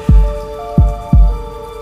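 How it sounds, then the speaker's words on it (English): Heartbeat sound effect, loud and close, with deep thumping beats at a steady rhythm over a low sustained hum. "And the sound of my heartbeat, louder than the rain outside"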